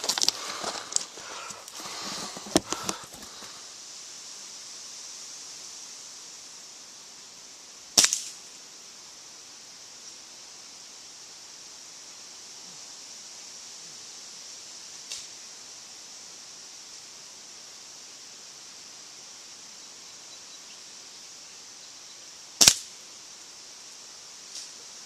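Air rifle shots from an HPA-powered QB78 fired at playing cards outdoors on a windy day: a few sharp isolated cracks spaced several seconds apart, over steady wind noise, with handling rustle at the start.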